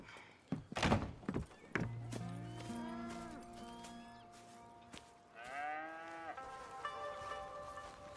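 Cattle on a ranch in Red Dead Redemption 2 give several drawn-out moos in turn, one near and loud, others softer, after a couple of dull thunks, with no talk.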